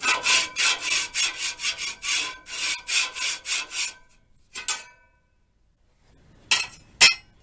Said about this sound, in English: I want to hear scraping action.